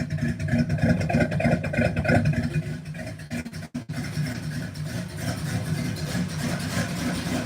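A 1969 Pontiac LeMans convertible, slightly loaded up and needing a tune-up, idles with a steady, uneven mid-pitched engine rumble close by, dipping briefly partway through.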